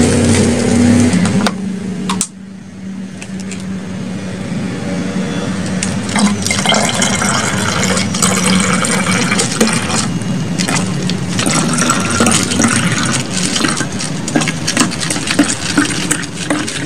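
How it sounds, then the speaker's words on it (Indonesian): Water poured from a container into a liquid bacterial culture mix outdoors in a garden, a steady splashing, gurgling stream that runs continuously and loudly, with stirring-like sloshing and a brief pause near the start. "tambahkan air lagi biar bersih ya"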